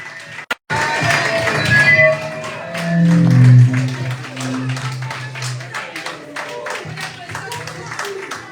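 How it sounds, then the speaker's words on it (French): Audience applause for a minister at a political speech, scattered sharp claps and crowd noise mixed with a voice speaking over a loudspeaker, uneven and moderately loud throughout. "Continuez d'applaudir"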